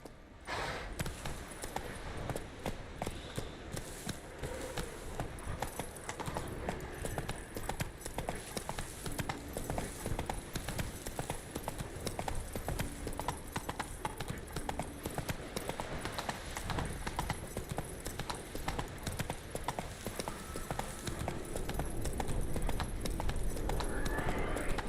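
Roach, a horse in the video game The Witcher, gallops in a fast, steady drumming of hoofbeats that continues for about twenty-five seconds at moderate loudness, with no other sounds breaking in.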